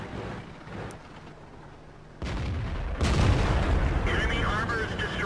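Tank cannons firing AP shells in World of Tanks in a Scandinavian city map, heavy booms under a steady rumble of engines and battle noise, with a louder burst partway through.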